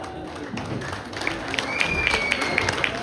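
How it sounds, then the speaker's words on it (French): Applause at a Congolese community celebration in Sherbrooke, a dense patter of clapping that builds and grows louder, with a whistle-like tone and voices mixed in. "DJ, on aimerait bien écouter des applaudissements réels."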